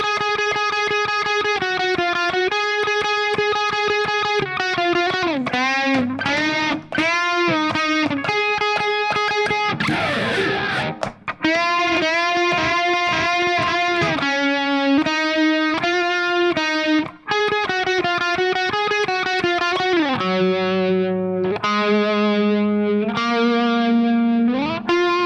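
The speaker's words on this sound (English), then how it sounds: "The solo is going to sound like this." Distorted electric guitar solo from a song, a steady run of sustained single notes with bends and slides, a brief scratchy noisy burst partway through, loud and close with no voices.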